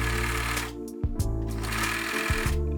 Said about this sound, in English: I fold my strips of fabric right sides together. I sew using a zigzag,